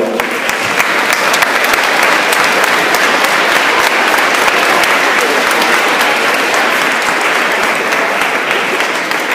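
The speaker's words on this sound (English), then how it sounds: "Please give a round of applause for those." At a school Veterans Day presentation, a large crowd of students applauds military veterans, loud dense clapping sustained evenly for around nine seconds without a break.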